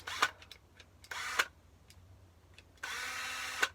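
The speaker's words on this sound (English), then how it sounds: "I'm just going to take the nail and I'm going to drill it in" A power drill runs in short bursts while driving a nail into wood for a handmade wheelie-bin go-cart, three whirring spurts separated by quiet gaps, the last one longer, close and moderately loud.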